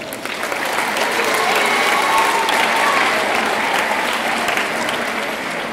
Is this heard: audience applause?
yes